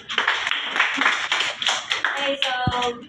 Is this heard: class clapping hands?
yes